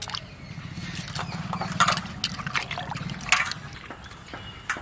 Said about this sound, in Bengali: আদা খুব ভালো করে জল দিয়ে ধুতে হবে।